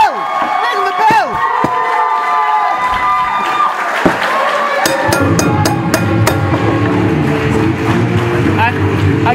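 A wrestling crowd roars and cheers after a tag team match ends in a pin, a loud, continuous wall of noise with excited commentators talking over it.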